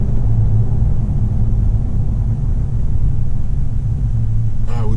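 Heavy road traffic rumbles steadily around a Toyota Tacoma on a windy day, a continuous loud low drone of passing vehicles near a school letting out.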